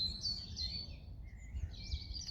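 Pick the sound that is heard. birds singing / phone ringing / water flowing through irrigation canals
birds singing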